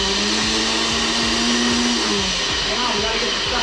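A kitchen blender runs loud and steady from start to end, its motor pitch wavering slightly as it churns ingredients for a chicken Alfredo zoodles dish.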